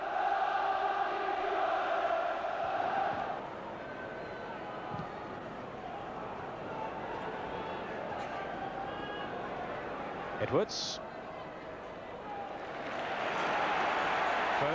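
Football crowd at a Torquay United v Bolton Wanderers Associate Members Cup Final, a steady distant roar swelling at the start and end, under continuous match commentary.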